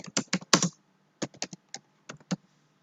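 Typing on a computer keyboard while entering a short text label in a web app builder: bursts of close, crisp key clicks in uneven clusters, with short pauses between groups and no talking.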